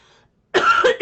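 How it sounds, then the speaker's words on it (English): One sharp, close cough bursts out after a short silence, with a quick second hack right behind it. "I didn't mean to cough on you folks."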